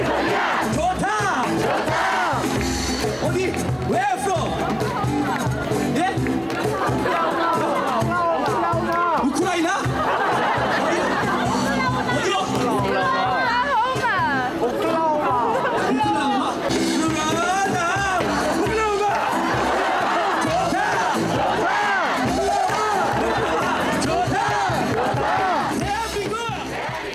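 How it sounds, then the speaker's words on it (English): An audience at an edgy Arirang performance in Seoul cheers and shouts over loud music, a dense crowd roar with voices rising throughout. "It's an edgy version of Arirang that reaches a crescendo with the audience cheering on."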